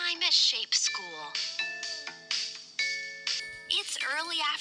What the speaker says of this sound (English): The lunchtime bell is ringing.